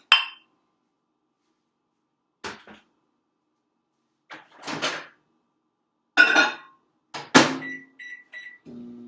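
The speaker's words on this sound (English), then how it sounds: "So I'm going to heat it up in the microwave." Several sharp clunks and knocks, like a microwave door shutting, followed by a short run of electronic keypad beeps.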